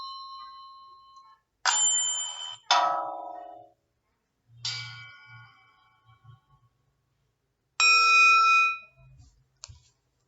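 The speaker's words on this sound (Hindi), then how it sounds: "ये है घंटा और ये है घंटे की आवाज।" A bell rings several times, each strike a clear metallic tone that rings on and fades, with soft low knocks between strikes.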